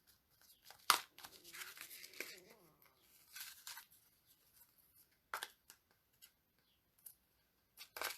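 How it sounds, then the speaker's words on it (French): Scissors snip away excess paper on a handmade Stampin' Up card, with a sharp cut and scattered crinkles and clicks, a few quiet words of talk in between. "Je vais découper le surplus."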